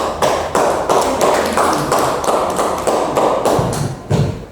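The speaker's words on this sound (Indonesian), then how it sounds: "kita berikan aplaus" An audience at a question-and-answer discussion session applauds. Sharp claps land in a loud, fairly even rhythm, nearly in unison, throughout the short stretch.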